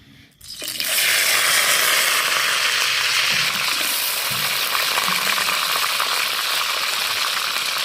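Mustard oil in a wok bursts into loud frying after a quiet start, then holds a steady close sizzle and crackle with no speech.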